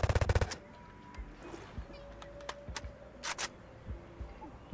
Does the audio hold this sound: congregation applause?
no